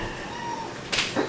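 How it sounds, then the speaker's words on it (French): A large, old, talkative house cat lets out a short meow close by, followed by a softer second call, against steady low room noise. "Il passe son temps à miauler pour rien."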